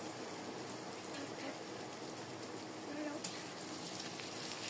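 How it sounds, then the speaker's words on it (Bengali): Potatoes with chopped tomato frying in a pan over low heat give a faint, steady sizzle and crackle with a few soft clinks, and no voices are heard. "আলুটা দিয়ে এবার সব ভালো মতো ভেজে নিব।"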